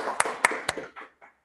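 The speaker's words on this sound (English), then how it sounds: "Virtual applause for you." A few quick hand claps, three sharp ones then softer trailing taps, sparse and close, given after an online conference presentation.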